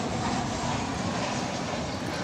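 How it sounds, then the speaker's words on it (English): A Boeing 737-800 jet airliner arriving at DFW Airport at night, heard as a steady, broad engine roar that holds at an even level throughout, with no talk over it. "294 arriving from San Antonio, Texas. A 737-800."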